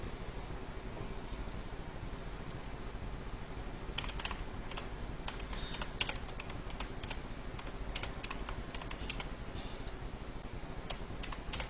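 Steady typing on a computer keyboard while writing HTML code, rapid close key clicks with intermittent louder keystrokes over faint background noise.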